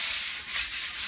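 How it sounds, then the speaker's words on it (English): Light hand sanding of a wood-stained cabinet door with 220 grit sandpaper: a steady, close, soft hiss in back-and-forth strokes with gentle swells, alone without talk. "using 220, lightly sanding"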